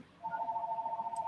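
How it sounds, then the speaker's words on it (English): A telephone rings with a steady electronic warbling tone that starts abruptly and continues with a rapid pulsing tremble, fairly loud and clear against a quiet room. "That's the ringing."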